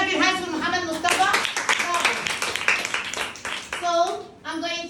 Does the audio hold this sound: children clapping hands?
yes